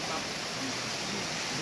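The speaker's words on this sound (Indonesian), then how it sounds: "di hadapan aliran air yang begitu jernih dan deras, aku merasa seketika meluruh." A clear, fast-flowing river rushes in a steady, dense roar with no break, heard close and alone during a dry season at Pasir Datar in Sukabumi.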